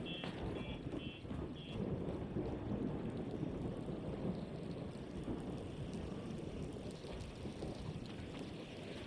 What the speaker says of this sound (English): an electromagnetic storm is currently raging